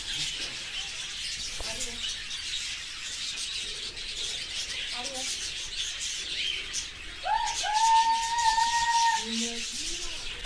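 Parrots being fed give short chirps and then a loud, drawn-out whistling call, near and clear over steady outdoor background noise, with faint talk nearby.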